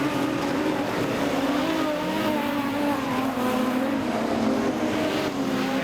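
Production sedan race cars lapping a dirt track at Kingaroy Speedway, a steady droning engine roar with shifting pitch as the pack passes, fairly loud and continuous without voices.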